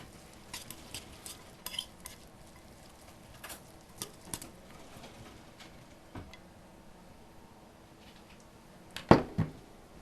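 Raw pasta sauce with Italian seasoning being mixed around, soft intermittent scrapes and taps of a utensil in a bowl, ending in a brief louder clatter, quiet and without talking.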